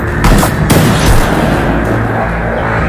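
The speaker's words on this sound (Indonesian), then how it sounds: "dua sniper terbaik dari masing-masing kubu ini pun saling beradu tembakan" Loud, dense bursts of gunfire crack and boom in quick succession, several sharp shots standing out over a continuous rumbling battle din.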